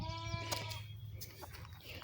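A young goat or lamb bleats for its mother within a farm herd, a few close, wavering calls at the start with fainter animal sounds and a low steady hum after.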